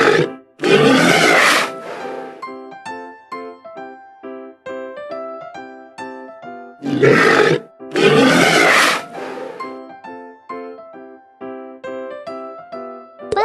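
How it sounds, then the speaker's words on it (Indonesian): Sea lion grunting and roaring in two loud, close bursts, each about a second long, separated by a stretch of layered tonal calls that keep going underneath. "Beruang laut."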